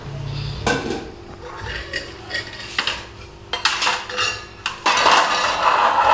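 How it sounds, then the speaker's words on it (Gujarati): Dishes, pots and pans being washed by hand in a home kitchen, with repeated metallic clinks and clatters of utensils knocking together at close range, growing busier toward the end. "મીરા વાસણ કરે ગાઈસ તો આપણે જોઈ મીરા કેવા વાસણ કરે છે."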